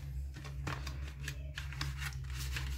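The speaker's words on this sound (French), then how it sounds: "On va sortir une Corsair vite fait pour vous montrer un peu plus en détail. Je vais ouvrir ça en 2 secondes." Corsair RAM packaging being opened by hand: crisp crinkling and snipping plastic noises in irregular bursts, close and fairly quiet, over a steady low electrical hum.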